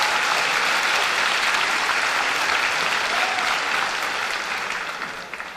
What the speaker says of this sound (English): Give them a round of applause for all these wonderful students that done an awesome job.